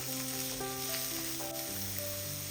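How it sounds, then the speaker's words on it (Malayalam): Chopped shallots sizzle steadily in oil over a medium flame while being stirred. The gentle frying hiss runs continuously under tonal background music. "ഈ ഉള്ളി ഒരു ഗോൾഡൻ നിറ ആക്കുന്നത് വരെ മീഡിയം ഫ്ലെയിമിൽ വെച്ചിട്ട് ഒന്ന് ഇളക്കി ഇരിക്കാം"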